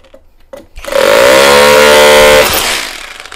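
A HUKAN three-function cordless drill spins up loud and close, holding a steady high whine for about a second and a half before winding down, with a few brief clicks before it starts.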